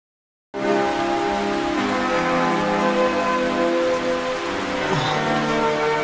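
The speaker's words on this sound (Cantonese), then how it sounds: "片段裏面落緊大雨" Heavy rain bursts in abruptly after a moment of silence and then pours down in a dense, loud, unbroken hiss that stays steady to the end.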